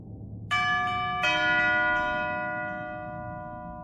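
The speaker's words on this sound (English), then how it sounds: "I heard the front door chime." Two ringing bell-like front door chimes, one after the other, sustain and slowly fade in a quiet room.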